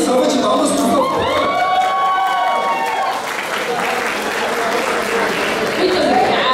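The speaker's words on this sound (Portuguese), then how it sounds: "Salva de palmas, por favor." A crowd at a Christmas cosplay parade applauds and cheers steadily, with whoops and children's shouts rising through the dense clapping, loud and sustained throughout.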